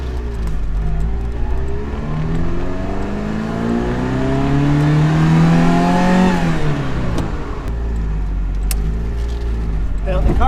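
A classic Ferrari 308 engine pulls steadily in third gear, a loud close drone that rises in pitch under acceleration, peaks, then drops as the car eases off and settles back to a lower hum.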